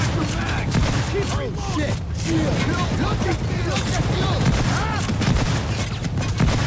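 Constant heavy gunfire from Payday 2, dense and continuous across the whole stretch with booms mixed in, played under a busy bed of game noise and voices chattering throughout.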